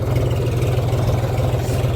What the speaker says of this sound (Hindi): आप ट्रैक्टर की आवाज़ देख सकते हो कितनी शानदार है